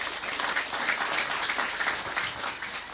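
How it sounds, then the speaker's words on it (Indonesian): Audience applause at an Indonesian religious talk by Gus Miftah, a dense, steady wash of many hands clapping at a fairly constant level for the whole span, with no voice over it. "Tepuk tangan buat beliau."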